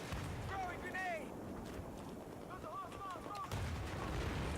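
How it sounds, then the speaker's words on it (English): Grenade blast in Battlefield 4 on Xbox One, a deep muffled boom rolling under ongoing gunfire and battlefield din, with someone talking over it. "Throwing grenade."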